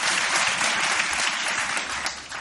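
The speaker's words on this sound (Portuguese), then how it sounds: "Queria que você desse uma salva de palmas a Jesus, né?" Dense applause fills a church as a congregation claps together, a steady, loud wash of hand claps without a break.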